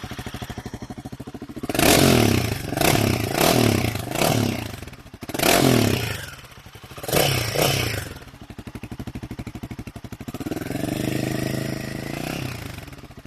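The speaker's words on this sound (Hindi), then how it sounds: "I will show you the exhaust sound of my bike after this" A Royal Enfield Himalayan 450 fitted with an AEW decat header pipe revs in several sharp, loud bursts, each climbing and falling back, then settles into a steadier, throaty rumble near the end, recorded up close.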